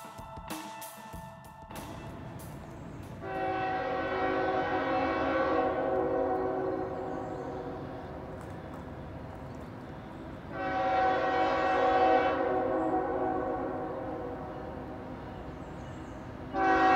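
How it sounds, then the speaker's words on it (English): A westbound coal freight train rumbles steadily past while its horn sounds two long, loud blasts, several seconds apart, over the continuous roar of the rail cars. "We got a westbound train coming."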